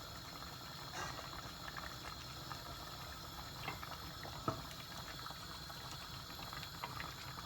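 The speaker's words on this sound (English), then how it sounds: "I let it boil." Water boiling in a pot of spinach and golden plum stew, a quiet continuous bubbling simmer with occasional soft pops and no talking.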